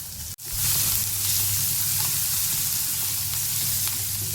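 Crushed garlic and green chilli sizzle steadily in hot oil with mustard seeds and asafoetida for a Konkani radish greens dish, a brief dip near the start followed by a continuous loud frying hiss, no talking.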